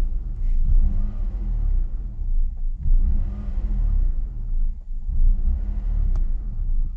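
A BMW 523i engine with a faulty airflow meter runs close by, idling with a deep rumble and swelling in three slow waves as it answers the throttle.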